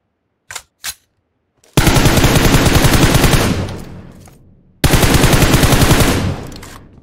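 Gunfire aimed at a boat in PUBG Mobile: two single shots, then two long, loud bursts of rapid automatic fire with a short gap between them.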